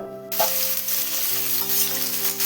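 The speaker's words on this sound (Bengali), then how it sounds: "তেলটা খুব ভালো করে গরম হয়ে গেছে দেখতেই পাচ্ছ এবার আলুগুলো ছেড়ে দেব" Potato pieces drop into very hot oil and burst into a loud, dense, continuous sizzle that starts suddenly and holds steady close up, with a faint ringing tone from the pan underneath.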